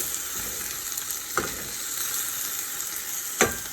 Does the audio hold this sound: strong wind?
no